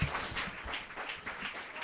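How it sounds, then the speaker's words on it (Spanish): A church congregation claps during a worship service, a fairly quiet, roomy patter of many hands in a loose rhythm that continues evenly without talk. "Fuerte ese aplauso para Cristo"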